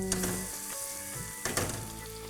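Whole red chilies crackle and sizzle in hot ghee, a short steady hiss with a couple of brief spoon knocks and faint clinks.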